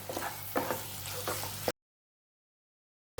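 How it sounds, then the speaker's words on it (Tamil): Prawns stirred in a kadai sizzle with a steady close crackle for under two seconds before the sound drops out completely, then returns briefly at the end. "இறால் போட்டு நல்லா கிளறி விட்டாச்சு"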